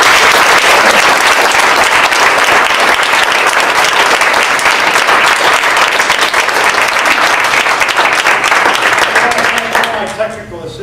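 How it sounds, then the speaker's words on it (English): Loud, dense applause from a lecture audience at an evening talk on Canadian stamp design, sustained clapping close and full throughout before tapering off at the end. "So let's give a big round of applause"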